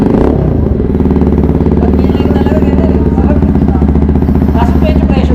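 A Motorstar Z200X motorcycle fitted with a Villain R11 aftermarket exhaust runs close and loud with a deep, steady, throbbing engine note, held at a constant pitch throughout with faint voices underneath.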